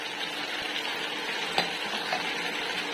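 Winged beans and long green chilies for Bicol Express are stirred in a pan with coconut milk, giving soft scraping and a few light utensil clinks over a constant bubbling sizzle, close by, without talking.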